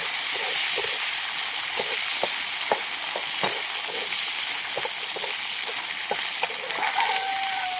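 A vegetable curry fries lightly in a little oil, with a steady close hiss broken by scattered sharp pops and crackles, and no talking.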